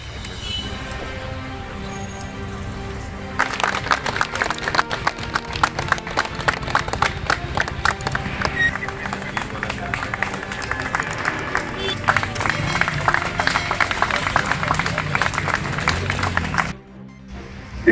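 An audience at the Jamalpur Locomotive Workshop anniversary ceremony breaks into loud, sustained clapping for an award recipient going on stage, rising after a few seconds of murmur and cutting off sharply near the end.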